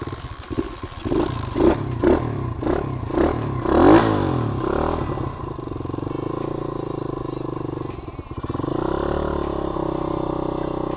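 An UM DTF 150 dirt bike engine under restoration with a new tank and plastics revs in a series of rhythmic throttle blips that climb to a loud peak, then settles into a steady, continuous idle, close and loud throughout.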